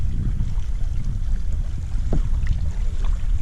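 A canoe paddled down a shaded river near a footbridge: a steady rushing wash of water and wind with faint splashes and no voices.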